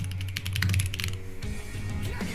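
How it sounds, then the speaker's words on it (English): Fingers type rapidly on a computer keyboard nearby, a quick burst of clacking keystrokes that eases into softer, scattered taps. "There's no way I'm gonna find that by typing in"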